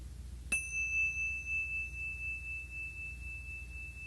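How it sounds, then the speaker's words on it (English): A single bright bell strike rings out once, then its clear tone lingers and slowly fades over several seconds in a quiet room. "We're going to ring our bell."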